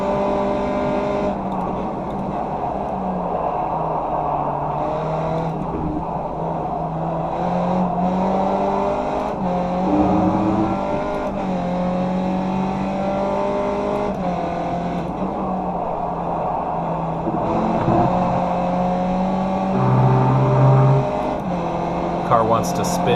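A race car engine from the iRacing sim at Circuit Park Zandvoort drones steadily, rising and falling in pitch through gear changes and corners while someone talks over it throughout.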